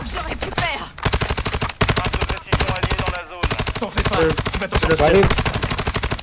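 Rapid automatic gunfire from the battle royale shooter Warzone in loud, dense bursts separated by brief gaps, with someone speaking French over the shots.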